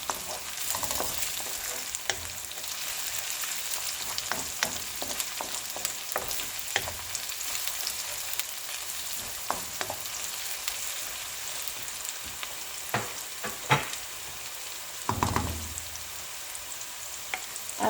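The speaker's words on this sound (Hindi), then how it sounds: "साथ ही इसमें अदरक, लहसुन हल्का सा फिर इसको हिलाएंगे" Ginger and garlic sizzle steadily in a hot pan for keema, with faint scraping stirs and occasional clinks over the continuous frying hiss, close and moderately quiet, with no talking.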